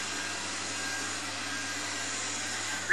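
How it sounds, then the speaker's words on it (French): A robot vacuum cleaner, switched on by voice command through Alexa, runs with a steady, even whir and hiss that holds unchanged throughout, close and moderately loud, ending in a brief louder bump. "allume l'aspirateur"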